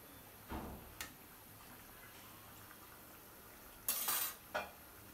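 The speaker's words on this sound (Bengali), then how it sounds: "এই যে দেখুন আমার তরকারিটা আমি আবার একটু নেড়ে চেড়ে দিচ্ছি" Cauliflower curry is stirred gently in a pot, giving a few soft scrapes and clinks of a spoon against the metal, with a brief louder clatter near the end over a quiet background.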